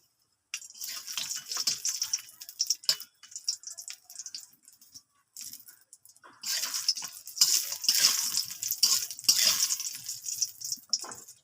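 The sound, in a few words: lentil dumplings (bori) frying in oil in a wok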